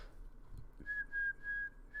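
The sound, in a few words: whistling imitating a whistled tune from The Power of the Dog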